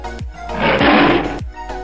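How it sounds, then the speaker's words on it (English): A lion roars once, loud and close, a single rough, breathy call of about a second and a half that swells in the middle and then fades. "Lion."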